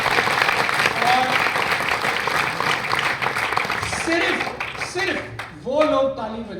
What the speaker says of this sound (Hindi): मेरे ख्याल तालियां होनी चाहिए।